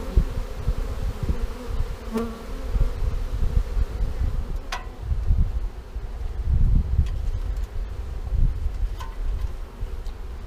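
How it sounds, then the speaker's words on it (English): A honey bee swarm hums around a newly occupied hive, with many bees clustered beneath it. The dense buzzing drone stays close and constant, with occasional individual bees zipping past. "Some bees are underneath the hive, which is normal."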